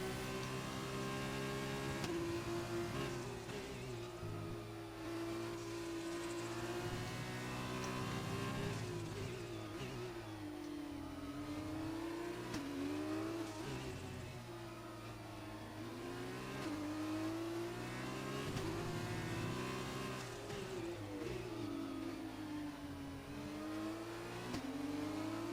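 F2-style race car engines in an Xbox racing game at a Brazilian Grand Prix round whine and rev continuously, pitch rising and falling through gear changes as cars run close together, with no voices over the engine drone.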